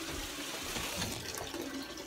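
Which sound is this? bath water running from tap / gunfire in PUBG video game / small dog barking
bath water running from tap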